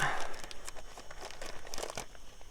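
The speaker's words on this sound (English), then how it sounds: "it comes in a plastic bag which I'm keeping just to keep it a bit drier possibly" A plastic bag holding the toolkit roll for a Royal Enfield Meteor 350 motorcycle crinkles and rustles in close, continuous bursts as it is worked out of a tight storage space, with no talking.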